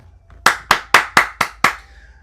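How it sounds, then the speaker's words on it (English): Six sharp hand claps in a steady, even rhythm, close and crisp, with no talking. "We ought to clap that up."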